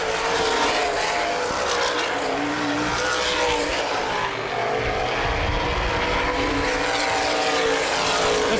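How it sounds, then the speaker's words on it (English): Sprint cars racing at Baer Field Speedway during a Hoosier Outlaw Sprint Series Labor Day race, engines roaring loud and continuous as the field passes, a dense wall of racing noise with no break. "Kaiser, less than 5 to go, going to try to get around the slower vehicle of Troy DeCare"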